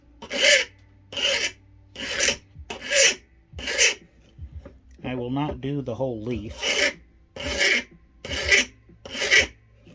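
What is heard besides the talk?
standard mill file filing metal rose leaf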